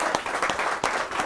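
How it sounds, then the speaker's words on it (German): A studio audience at a live German talk show applauds a guest, a continuous dense clatter of many hands with a few louder individual claps standing out, close and full for the short span. "Applaus!"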